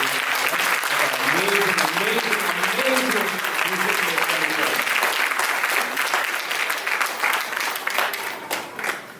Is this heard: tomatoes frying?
no